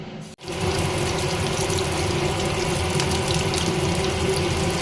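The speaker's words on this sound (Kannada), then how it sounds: "ಪೇಶಾವರಿ ಕಬಾಬ್ ಫ್ರೈ ಆಗ್ತಿದೆ, ಇಲ್ಲಿ ನಾರ್ಮಲ್ ಕಬಾಬ್ ಫ್ರೈ ಆಗ್ತಿದೆ" Peshawari chicken kebabs fry in a pan of hot oil, giving a loud, steady, dense hiss that starts just after a brief quiet moment and carries on unbroken, with no voices.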